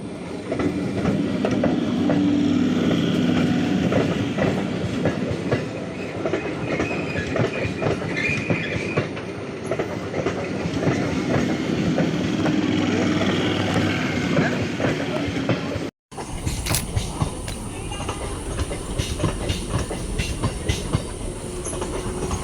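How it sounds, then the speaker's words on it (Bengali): A train rumbles past with steady rolling clatter of wheels on rails, close and loud, continuing after a brief cut. "ব্লগ করতে করতে ট্রেন চলে এসেছে।"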